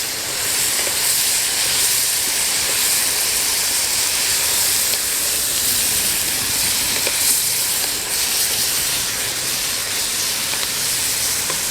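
Tomatoes blistering in a pan for about five minutes while cooking smothered green beans with tasso, giving a steady, close sizzling hiss that runs unbroken without talk.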